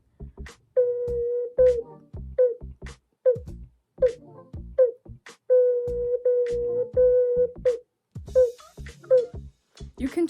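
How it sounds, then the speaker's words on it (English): A series of short, tongued ocarina notes on one pitch, played in quick groups with crisp attacks and some longer held tones between. "Tut gives more of an emphasis"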